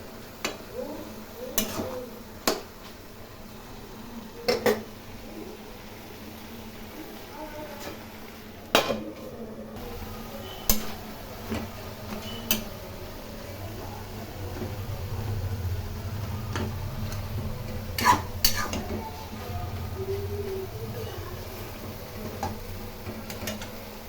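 A Bengali-style cabbage curry with potatoes is stirred in a pot over a low gas flame. A spoon gives scattered clinks and scrapes against the metal over a faint steady hum.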